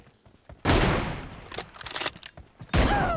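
M24 sniper rifle shots in a video game match, two loud sharp blasts with a few quieter shots between them, close and echoing briefly.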